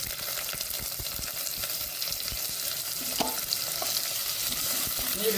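Chopped onion frying in a pan with curry leaves, a continuous crackling sizzle with scattered stirring scrapes, close and steady, with no voices.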